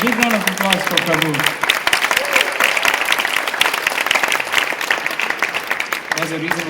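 An audience applauds a singer after a song, a dense burst of clapping with a voice speaking over the start and end of it.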